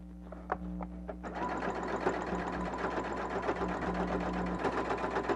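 A sewing machine back-stitching down the middle of fabric for a duster project, running steadily and loudly up close for several seconds after a brief start, with a constant hum underneath.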